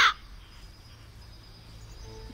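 Single short bird caw in a hidden object video game, a sharp, loud call at the very start that cuts off quickly and leaves a quiet, faintly humming ambience.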